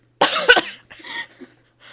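A single sharp cough up close, followed by a couple of softer breathy coughs and a short exhale.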